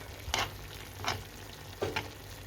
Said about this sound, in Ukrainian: нарізала помідорки, вкидаю у фаршик